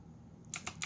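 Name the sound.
typing on a keyboard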